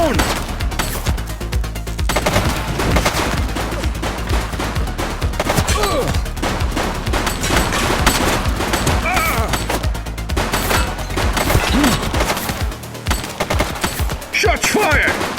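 Dense, continuous gunfire from a police shootout in the game The Precinct: rapid overlapping shots and bursts, loud and close, with shouting voices mixed in throughout.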